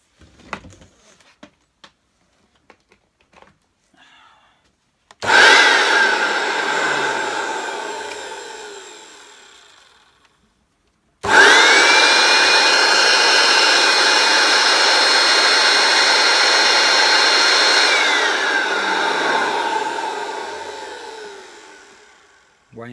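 Hoover Junior U1650 upright vacuum cleaner, refurbished and running without its cover, switched on for a short loud burst that winds down, then started again and run steadily before spinning down.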